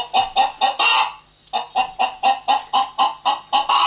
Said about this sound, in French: On a entendu la poule.